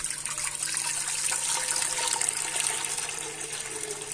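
Water poured into a pressure cooker in a home kitchen while preparing mutton with bitter gourd, a steady continuous splashing gush that stays fairly even from start to end with no voices.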